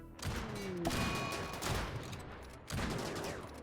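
Rapid gunfire bursts and shots ring out in a RimWorld battle, dense and loud across the whole stretch, with a brief pause before another volley erupts near the end.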